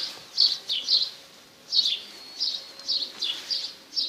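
Caged birds offered for sale call at a bird seller's place, giving a series of short, high chirps repeated every half second or so, fairly close and clear over a quiet background.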